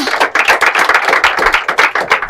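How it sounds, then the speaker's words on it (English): Rhythmic group clapping from schoolchildren at a praise celebration for the Olu of Warri, close and loud, with quick regular beats repeating in an even pattern throughout. "let's applaud them"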